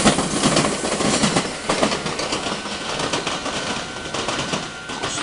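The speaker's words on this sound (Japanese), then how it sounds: "次々と列車がねやってきますね" A Meitetsu train rolls past near Inuyama station on the Inuyama Line, close to the Komaki and Hiromi line junction and a depot, with a steady loud broadband rumble and rail clatter lasting throughout, birds faintly audible.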